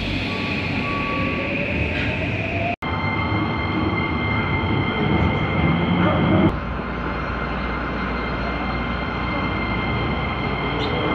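Loud, constant rumble from inside a moving subway train in Tokyo, between Shimbashi and Oshiage, with a high whine and rattling that shifts partway through as the car travels.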